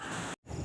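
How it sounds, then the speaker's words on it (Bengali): A crow caws outdoors near the Harangajao waterfall in Dima Hasao, Assam. Two short, loud caws sit close by, split by a brief silent gap. "পাখির ডাক"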